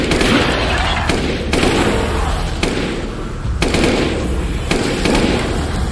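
Heavy booming blasts and gunfire in the Resident Evil Village boss fight on PSVR 2, loud and dense, with big impacts landing roughly every second amid a constant roaring background.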